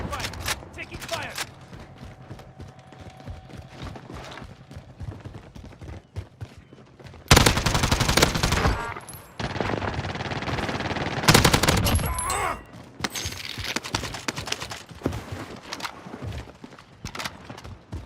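Bursts of automatic gunfire in an Apex Legends-style first-person shooter match, loud dense volleys swelling and cutting off in several waves between quieter stretches, with game voice lines and speech underneath.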